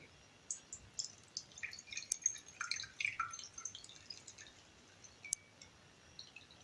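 Liquid drips from a chopped onion squeezed by hand over a bowl for an apple salad, giving a string of faint, irregular small drips and splats in a quiet kitchen.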